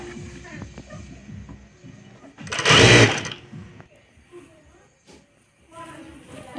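A sewing machine stitches a two-fold cuff on a nightie sleeve, running in a loud burst of about a second amid quieter handling noises and a faint background hum.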